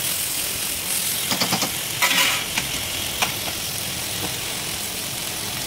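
Tomatoes tossed into hot oil for vegetable semiya, giving a steady close sizzle broken by a few scraping stirs and clinks of the spoon against the pan.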